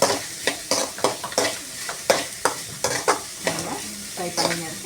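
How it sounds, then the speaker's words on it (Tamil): Onions frying over a high flame until maroon, steady sizzling punctuated by quick, evenly spaced spatula scrapes and taps against the pan, close and fairly loud, with no talking. "ஃப்ரை பண்ணிங்க இருக்கேன். நல்லா கொஞ்சம் மெரூனாக ஆகும்போது அது வரைக்கும் கொஞ்சம் ஃப்ரை பண்ணோம்."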